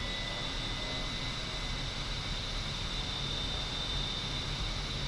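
A-10C Warthog jet engines at max throttle in the DCS simulator, a constant broadband roar with a faint high whine, steady and unbroken throughout.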